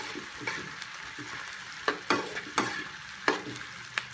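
Hotdogs frying with tomato and chili peppers in a pan, a soft steady sizzle broken by several sharp scraping stirs of the spoon against the pan, close and alone.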